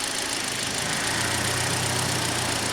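A car engine idles steadily under electrical load with the headlights switched on, a continuous mid-pitched hum with a faint low pulsing throughout.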